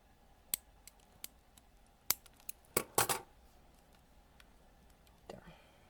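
Scissors snip through the roots of a ficus cutting during repotting, giving a few sharp, close clicks spaced over several seconds with a quick double cut near the middle, in a quiet room.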